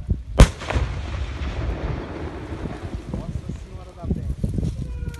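A bomb detonation in Governador Lindenberg: one sharp, loud blast near the start, then a long rumbling tail of debris and wind noise, with voices talking through the aftermath.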